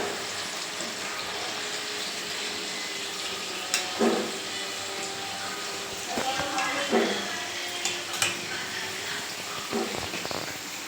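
Coconut modak frying in oil until brown, a soft bubbling sizzle in the background broken by several clinks and scrapes of a utensil, with a voice talking over it.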